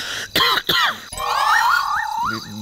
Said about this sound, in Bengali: ভীষণ কাশি হয়ে গেছে।